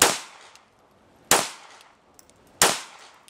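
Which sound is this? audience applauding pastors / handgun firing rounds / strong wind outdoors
handgun firing rounds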